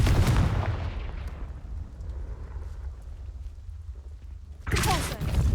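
A fiery spell blast from Hogwarts Legacy bursts with a loud, deep boom that fades into a low rumbling tail, and a second heavy blast follows near the end.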